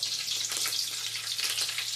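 Green chilli slits dropped into hot tempering oil with whole spices for chhole, crackling and sizzling close up in a continuous bright hiss.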